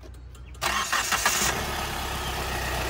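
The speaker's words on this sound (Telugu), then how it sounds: "ఇప్పుడైతే మీకు ఒకసారి వెహికల్ స్టార్ట్ చేసి చూపిస్తాను చూడండి" After a quiet moment, a Hyundai Creta 1.6 diesel SUV engine cranks and catches on a single start with a sudden roar, then settles into a steady, rumbling idle close by.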